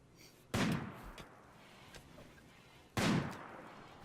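Two loud, separate gunshots in a snowy Rimworld colony, a few seconds apart. Each is a sharp blast followed by a short decaying echo, with faint quieter pops between them.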